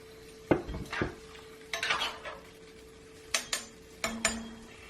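Lid set onto a metal pot holding a pot roast with onions and carrots, several distinct clanks and rattles scattered over a few seconds, close and clear without talk.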